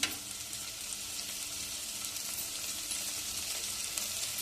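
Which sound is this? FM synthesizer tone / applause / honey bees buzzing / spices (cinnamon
spices (cinnamon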